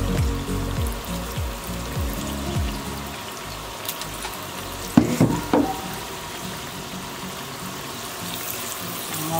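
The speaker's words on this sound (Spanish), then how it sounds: "Ya tenemos nuestro aceite bien caliente. Vamos a empezar a dorar." Potatoes frying in very hot oil give a steady, close sizzle and bubbling hiss, with a brief clatter of stirring about halfway through.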